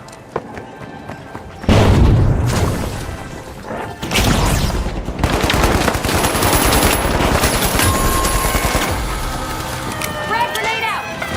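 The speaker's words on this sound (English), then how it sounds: "Frag grenade out!" Frag grenade blast and rapid gunfire in the arena shooter The Finals, a loud crash followed by sustained bursts of automatic fire, with announcer-style voices talking over the action.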